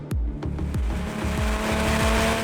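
A track-prepped Mini Cooper JCW driven hard on a track, its supercharger whining steadily over loud engine roar, with repeated rising and falling notes as the driver shifts and gets back on the throttle, close and continuous.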